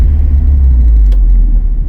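A 2008 Audi A4 B7 2.0T Quattro with a six-speed and very low stance runs on a test drive, giving a steady, loud low rumble of engine and road noise with no talking.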